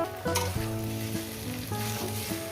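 A fish head frying in a pan for a taro-stolon chachhari, a loud close sizzle over a low steady humming tone that shifts in pitch, with no talking.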